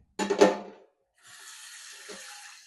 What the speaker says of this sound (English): we're adding water to the pot.